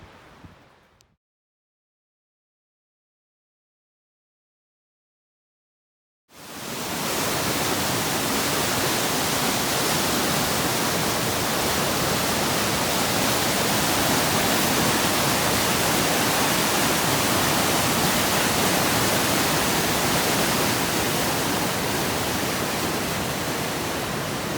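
Twenty Mile Creek in the Smoky Mountains rushing loudly and steadily, a broad continuous roar of flowing water that starts abruptly after a few seconds of silence.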